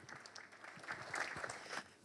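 Audience applause at a building-sector conference greets a speaker arriving at the podium: a steady, even patter of many hands clapping, moderately loud and slightly distant in a large hall, with no voices over it.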